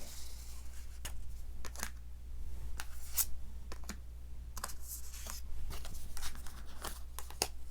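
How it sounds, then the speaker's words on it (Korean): Tarot cards shuffled and drawn during a reunion reading, heard as a series of sharp, close card snaps and flicks at irregular intervals over a steady low hum, with no voices. "왜 그런지 추가 카드를 뽑아보도록 할게요"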